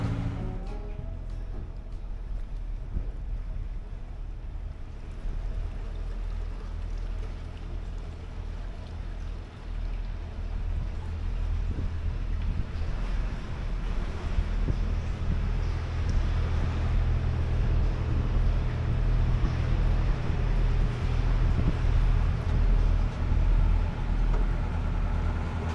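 Narrowboat with a small 1.5 BMC engine cruising, a steady low diesel rumble with water and hull noise, continuous and close, building slightly louder over time with no talking.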